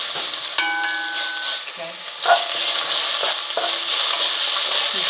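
Curry leaves fry loudly in a pan for a salmon curry in coconut milk, a dense close sizzle with stirring scrapes, and a voice says a single word.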